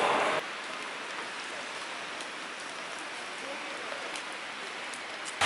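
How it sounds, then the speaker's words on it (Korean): Rain falling outdoors, a steady, dense hiss of drops hitting surfaces, moderately loud and continuous without speech. "지금 여전히 비가 오고 있고요"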